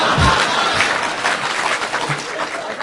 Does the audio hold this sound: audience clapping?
yes